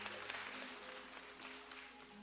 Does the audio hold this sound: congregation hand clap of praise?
yes